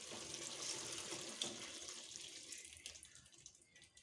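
Milk poured into a wet fry tilapia sauce, a steady liquid splashing and trickling stream that fades gradually, with no talking.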